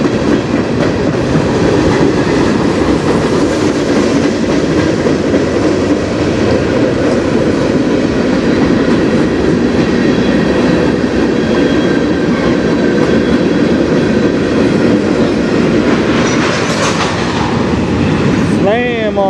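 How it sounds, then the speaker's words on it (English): A freight train on the Strathroy Subdivision rumbles past continuously and loudly, wheels clattering on the rails, with metallic squeals rising near the end as the brakes are applied. "This train normally slows down considerably here."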